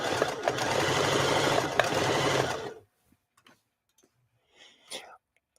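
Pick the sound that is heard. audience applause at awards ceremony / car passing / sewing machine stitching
sewing machine stitching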